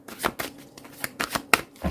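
Tarot cards are shuffled by hand in quick repeated riffles and slides, a close, crisp papery flutter in rapid bursts over about two seconds.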